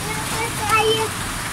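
Rain falls as a steady broadband hiss close by in the afternoon, with a few faint chirps over it and no clear speech.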